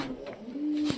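Pet pigeons coo softly at a home near a balcony: a faint, low, drawn-out coo rises near the end over quiet room background.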